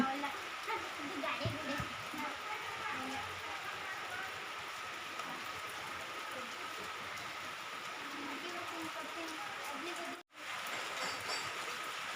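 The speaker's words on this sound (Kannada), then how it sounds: "ಇವತ್ತು ಮಳೆ ಜೋರಿದೆ ಮತ್ತೆ ಸ್ಟಾರ್ಟ್ ಆಯಿತು ಮಳೆ" Constant soft rainfall patters in the background, fairly quiet and even, with a brief dropout near the end.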